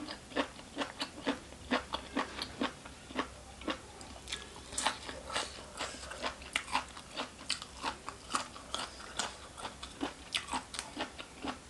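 Close, quiet crunching bites and chews of spicy, crispy Thai som tam papaya salad repeat in an uneven rhythm with no talking.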